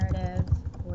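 Computer keyboard typing, quick uneven keystrokes at close range while an assignment is written up, with low talk-like tones running underneath.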